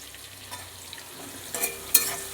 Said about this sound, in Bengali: পেঁয়াজ কুচিটাকে আমি একটুখানি লাল লাল করে ভেজে নেব।